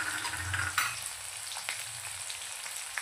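Cumin seeds hit hot oil and sizzle with a bright, steady crackle, a sharper burst of spitting near the start before it settles into an even fry.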